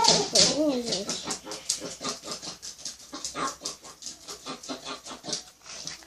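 A dog pants rapidly with a few high whimpers near the start, the breathing continuing in a steady rhythmic pattern close to the microphone for several seconds.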